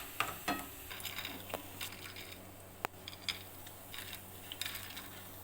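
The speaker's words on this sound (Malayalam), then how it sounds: "കോരി വേറെ പാത്രത്തിലേക്ക് വയ്ക്കാം." Fried ginger for a ginger curry is scooped out of oily pan and moved to another vessel, with scattered scrapes, clinks of a metal spoon against cookware and soft sizzling under the sharp taps, no talk.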